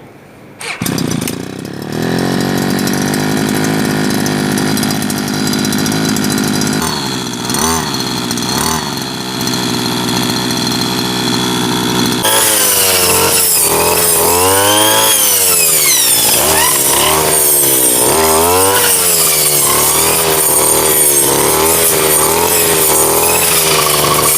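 Petrol brush cutter fitted with a carbide-tipped circular saw blade pulls into life and settles into a steady loud idle, then revs hard and wavers up and down while cutting, running alone throughout.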